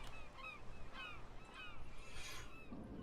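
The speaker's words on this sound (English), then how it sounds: "I hear you, seagulls." Gulls honk and call repeatedly from the Total War: Shogun 2 game soundscape, several moderately near cries over a steady low ambient hum.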